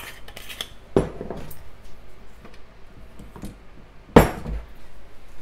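A spoon clinks against a pot while orange blossom water is stirred into baklava syrup: two sharp, ringing knocks about three seconds apart, with faint clatter in between and no talking.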